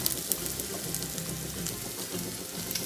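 Potatoes fry in a pan, making a steady close sizzle with faint crackles throughout, with no voices.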